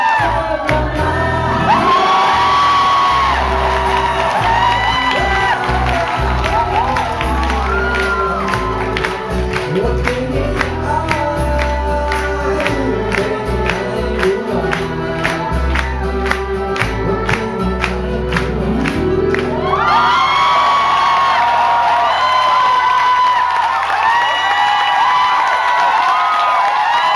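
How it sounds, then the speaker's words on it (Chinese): Audience at an album concert screaming and cheering loudly at the start and again near the end, with live band music and singing carrying through the middle. "但是你们尖叫不能太大"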